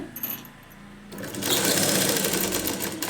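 A sewing machine stitches fabric from the reverse side while a sleeve is prepared, starting with a brief quieter rattle and then settling into a loud, steady, close mechanical whirr for the last couple of seconds.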